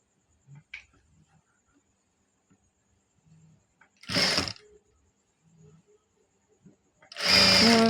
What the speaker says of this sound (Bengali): এখন আমরা গলার সেলাইটা দিয়ে দেব প্রথমে মিলিয়ে